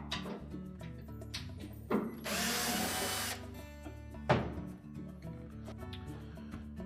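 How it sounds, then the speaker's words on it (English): Power drill whirring for about a second and a half while backing screws out of the top of a Whirlpool washer's front panel, with clicks and handling noises before and after the burst. "So next we're going to take 6 screws off across the top of that front panel."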